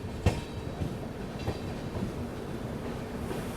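A Bharat Gaurav special train rolls into Kanpur Central on a parallel track, its wheels clacking over rail joints in a steady rumble with occasional sharper knocks, loud and continuous without voices.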